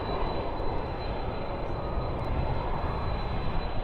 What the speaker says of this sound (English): And spoilers up, reversers out.